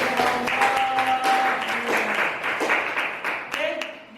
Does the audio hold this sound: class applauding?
yes